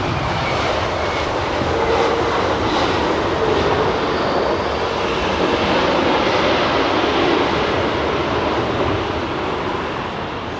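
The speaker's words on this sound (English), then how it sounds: "Bulgarian Embraer, is it?" A Bulgarian Embraer jet with CF34 engines departing Heathrow gives a loud, steady broadband roar that holds for the whole stretch, with no voices over it.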